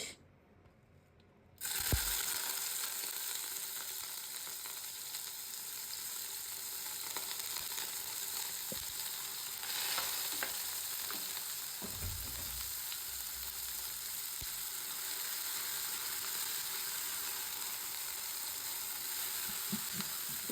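Onions drop into hot olive oil in a pan for an egg stir fry: after a brief quiet, a loud sizzle bursts in and holds steady and close, with occasional soft stirring knocks.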